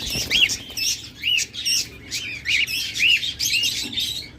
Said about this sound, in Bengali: প্রত্যেকটা রেড আই পাখি দেখুন